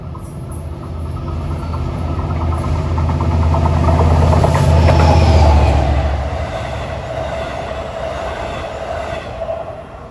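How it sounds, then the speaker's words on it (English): A two-car diesel commuter train on the Long Island Rail Road, number 662 from Hunters Point Avenue to Port Jefferson, rumbles past near Jamaica/Hollis, its engine swelling loud midway and fading with a lingering rail hum. "here comes the first of the Bobbsey twins. Set of 2 diesel trains."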